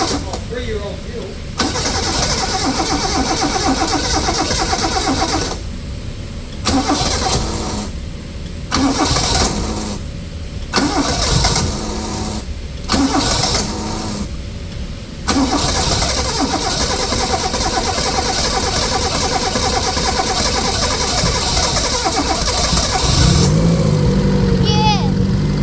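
A car engine cranks and fires up on three-year-old fuel, then runs steadily with a few revs, loud and close, while people talk over it throughout.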